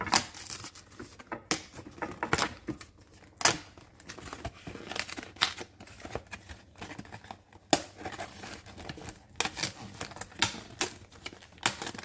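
Perforated cardboard of a Nature Line mushroom grow kit being torn open by hand, giving a long run of close, loud crackling rips and crinkles in irregular bursts, with no talking.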